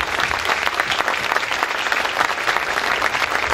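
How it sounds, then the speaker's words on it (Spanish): A crowd at a traditional religious festival honoring the patron saint Santo Cristo de Esquipulas in Santa Cruz claps loudly, a thick continuous roar of many hands that holds evenly throughout. "Un fuerte aplauso a nuestro patrón."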